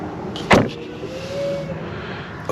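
A power window motor from a Chrysler 300 runs close by in a quiet space, giving a low steady whir with a faint rising tone, and a single sharp click near the start.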